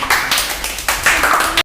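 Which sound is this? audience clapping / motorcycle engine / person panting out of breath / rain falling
audience clapping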